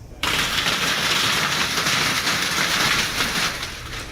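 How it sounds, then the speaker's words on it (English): Hail falls steadily in a severe storm in Arkansas, a dense, loud hiss and clatter starting abruptly and holding for several seconds before easing slightly. "As you can hear, that system also dropped hail on Arkansas."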